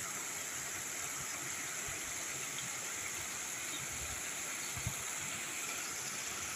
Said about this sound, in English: and see how this water flows.